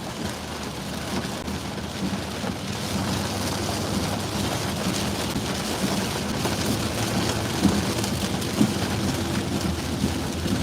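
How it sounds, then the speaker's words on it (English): Heavy rain with fat raindrops pours down in a steady, close, dense patter and hiss that holds evenly throughout, with a few louder drop hits and no voices. "Oh, these are fat raindrops, boy."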